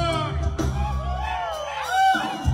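A crowd at a jaripeo rodeo concert at Rancho las Carolinas shouts, whoops and cheers together. The voices rise in long, rising calls and hold loud and steady for a few seconds.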